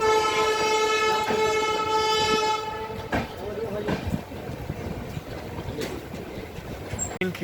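Anga Express train pulling into Fuel Junction station, a long sustained horn blaring loudly for about three seconds, then rumbling wheels and platform bustle with people talking nearby.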